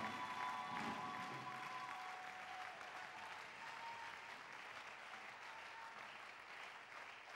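Applause from a church congregation fills the space, a steady wash of many hands clapping at an even level throughout, with no voices standing out.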